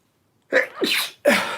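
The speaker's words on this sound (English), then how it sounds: "that was a sneeze in between my final message" A single close, sharp sneeze with a quick inhaled buildup, followed by a brief breathy sound, no talking around it.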